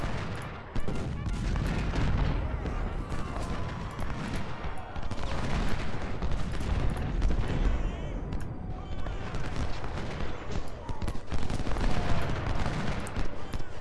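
Musket volleys in the Civil War strategy game Ultimate General: Civil War crackle almost continuously, dense overlapping rippling shots of steady moderate loudness throughout, like distant massed infantry firing.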